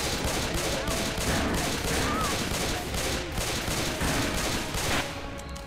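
Gunfire in Left 4 Dead 2 on PC rattles almost nonstop, dense rapid shots filling the whole stretch before easing slightly at the end, with game noise behind it and brief voices mixed in.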